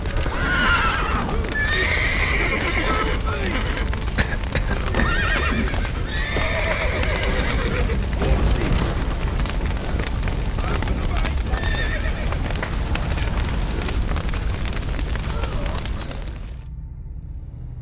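Horses neigh loudly and repeatedly over the clatter of hooves during a collapsed-roof rescue, with shouting voices and a chaotic, crashing background.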